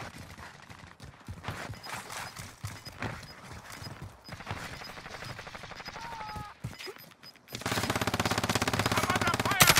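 Scattered gunshots crack during a Call of Duty Modern Warfare Warzone match, then give way to a loud, dense burst of rapid automatic fire near the end, with voices and game sounds mixed in.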